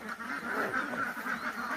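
A flock of domestic farm ducks, about 72 to 74 days old, quack in a dense, overlapping chorus as they leave their pen, loud and close, with calls running together without pause.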